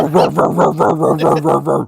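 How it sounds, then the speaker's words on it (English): A dog barks repeatedly and loudly close by, a rapid series of about seven evenly spaced barks running through the whole moment. "She was barking at me."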